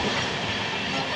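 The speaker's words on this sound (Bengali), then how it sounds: "দেখুন যে কি দ্রুত গতিতে ছুটে চলেছে এই অমৃত ভারত ট্রেনটি" An Amrit Bharat Express train running fast at night, a dense continuous roar of wheels and rushing air with faint rhythmic rail clatter, loud and steady throughout with no talking.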